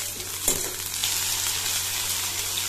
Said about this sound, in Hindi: मैंने बड़ी डाल दी है अब इनको भूनेंगे थोड़ा